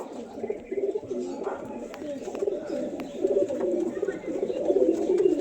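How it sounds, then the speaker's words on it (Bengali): A large domestic pigeon coos close by in a home loft, repeating low throaty rolling calls throughout, with faint clicks and shuffling in the background. "তো গাইস দেখো পায়রাটাকে ছাড়ছি, দেখো কতটা বিগ সাইজের পায়রা আছে।"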